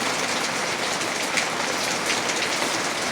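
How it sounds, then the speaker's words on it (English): Hard rain pours down during a thunderstorm in northern Michigan, a dense, unbroken hiss of drops drumming on surfaces, loud and close throughout with no voices. "It's been raining pretty hard for a minute."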